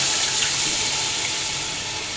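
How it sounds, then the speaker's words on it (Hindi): A mixture of besan and yogurt whisked into water pours into a pan of fried masala, making a steady, loud, continuous rush of liquid with no voices over it. "अब ये जो हमने बेसन और दही को पानी में मिक्स किया था ये इसके अंदर ऐड करते हैं"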